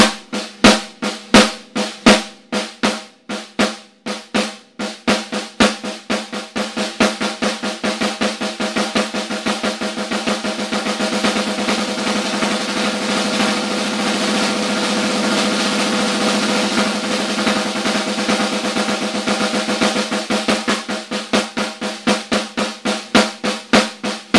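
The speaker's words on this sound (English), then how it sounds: "I'll practice accenting the second hit in each hand," Drumsticks play a double stroke roll with the second hit of each hand accented, starting as slow distinct pairs, speeding into a dense continuous buzz, then easing back into separate strokes, close and without talk.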